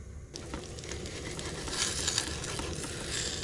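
An oyster and scallion pancake frying loudly in a pan, a dense crackling sizzle that runs throughout and swells briefly in the middle.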